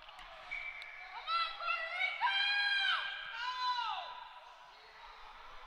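A Puerto Rican crowd at a men's ice hockey game, Chile versus Puerto Rico at the Latam Cup 2021, cheers and chants in rising and falling waves, heard from a distance and fairly faint.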